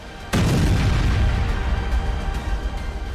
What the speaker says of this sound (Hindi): यहाँ धमाका देखिए, दिन दहाड़े इजराइल ने ईरान के परमाणु अड्डों पर बम बरसाए हैं।